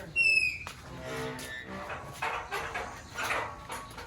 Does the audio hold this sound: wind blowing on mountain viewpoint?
no